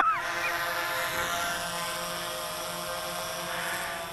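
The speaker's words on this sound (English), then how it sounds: "These brushless motors really are" A DJI Phantom 4 quadcopter drone hovers close by, its brushless motors giving off a loud, steady, high-pitched whine and buzz that holds constant with slight pitch wavers, and no voices are heard.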